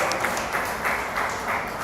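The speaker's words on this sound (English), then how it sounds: "Big round of applause for Vishal." An audience at a school inter-house quiz competition claps in a steady, moderately loud round of applause, a dense patter of many hands that swells slightly in waves.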